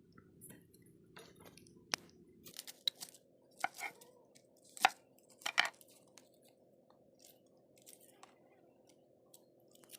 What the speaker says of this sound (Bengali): প্রথমে আমরা পেঁয়াজটাকে কুচি কুচি করে কেটে নিচ্ছি